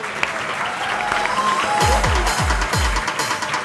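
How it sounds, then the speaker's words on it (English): An audience at a college induction ceremony applauds a gold medal winner, sustained crowd clapping with several deep thumps like a drum or microphone knocks partway through. "Please give a huge round of applause for Miss Vinita."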